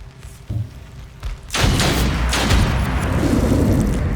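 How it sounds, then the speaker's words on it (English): A gunshot in the turn-based video game Othercide lands as a heavy, booming blast partway through after a couple of softer thumps. A loud rumbling tail sustains to the end. "we can actually finish him off with one more shot"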